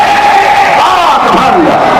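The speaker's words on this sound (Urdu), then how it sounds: "اللہ اکبر کہہ دو" Large crowd at a Muharram religious gathering in Raipur shouting Allahu Akbar together, a loud sustained massed chant that rises and falls over two seconds, close and filling the space.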